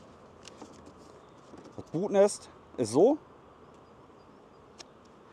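Honey bees crawl over the combs of an open hive during April beekeeping, a steady low buzzing hum running throughout beneath a brief stretch of speech.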